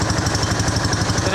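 An engine idles smoothly and steadily at close range, its low even pulsing thrum running unbroken through the short stretch with no other sounds on top.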